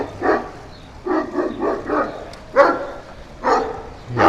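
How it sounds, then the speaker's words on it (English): A big dog barks repeatedly outdoors at moderate distance, in irregular bursts of single and double barks. "Yeah, big dog."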